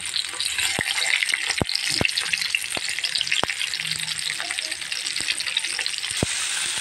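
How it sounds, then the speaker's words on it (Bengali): Tilapia fish fry in oil in a frying pan, a dense, continuous sizzle with sharp crackles and spits popping throughout, close and alone without talk. "এই যে এখন মাছগুলা ভাজি বসাই দেব"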